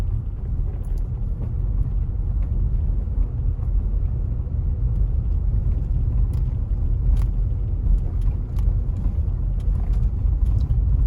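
A car slows while driving into Upper Rockspring, Jamaica, its steady low road rumble and engine drone continuing loud and close throughout, with no talk.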